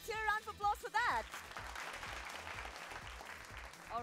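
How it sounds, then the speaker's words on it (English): Studio audience applause on a televised school quiz show, a sustained burst of clapping from a crowd that starts just after a voice speaks and continues steadily to the end. "Let's hear a round of applause for that."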